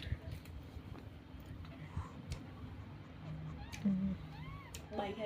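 A mother cat with a litter of newborn kittens gives a few soft, rising meows, mostly toward the end, set against quiet room noise and faint talking in the background.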